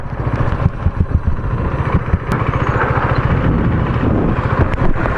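A motorcycle engine revs and rumbles with throttle changes and wind noise, close to the microphone, while riding in Melbourne traffic.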